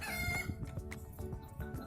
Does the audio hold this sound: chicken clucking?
yes